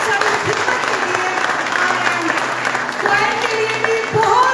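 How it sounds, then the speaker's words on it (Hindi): A congregation at a live church worship service in Budapest applauds, a close, moderately loud clatter of many hands that rises and dips, while a voice speaks over it. "बहुत ढेर सारी तालियां और बरकत और शुक्रिया पास्टर आरी भट्टी आपके लिए"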